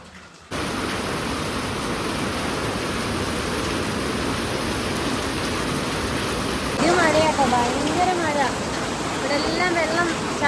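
Rain falls on a dark, overcast village morning as a steady, loud, close wash of noise, with people talking over it toward the end.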